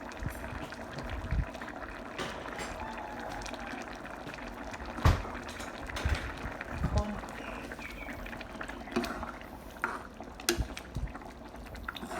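Thai green curry with chicken simmers in a pot, a steady bubbling boil with occasional louder pops and stirring knocks, continuous and close throughout.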